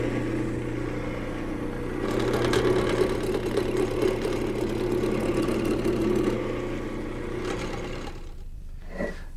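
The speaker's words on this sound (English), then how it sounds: "I've mounted a smaller blank in the lathe, and using the same techniques I used for the legs," A wood lathe turns chair stretchers for a high chair from a smaller blank. A steady motor hum carries rougher cutting noise through the middle, and the cutting eases off near the end. No one speaks.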